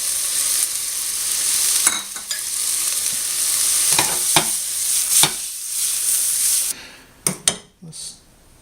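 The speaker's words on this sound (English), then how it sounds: "now I'm putting the dry shrimp in" Dried shrimp stir-fried with shallot and shiitake mushroom in a pan, a loud bright sizzle with brisk scraping strokes of a utensil, then the frying drops away and a few sharp knocks and scrapes follow.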